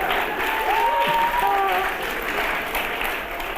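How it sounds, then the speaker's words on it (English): Audience applause for students at an event, loud continuous clapping from a crowd, with a few faint tonal sounds and voices in the background. "Round of applause for the cool kids."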